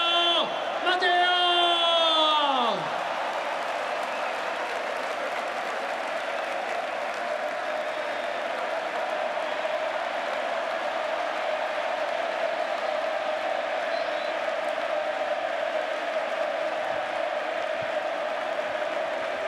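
Audience applause at a stadium farewell tribute to a football player, a loud voice shouting over the start before continuous crowd clapping and cheering carries on steadily.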